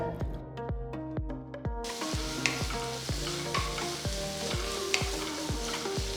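Chopped onion sizzles steadily in hot oil with ginger and garlic while a spoon scrapes and stirs the pan in a regular rhythm.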